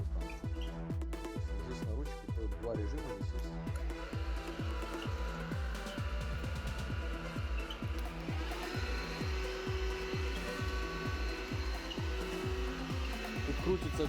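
A Bosch 14.4V Series 2 cordless vacuum cleaner runs up close with a steady, loud motor whine and a pulsing, rhythmic undertone that holds throughout.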